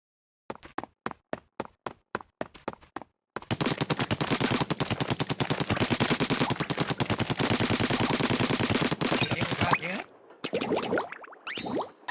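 In Splatoon, a spaced run of single ink shots gives way to rapid, continuous machine-gun-like firing at the high-HP Enemy Samba, loud and close, ending in a splashy burst before a few final scattered hits.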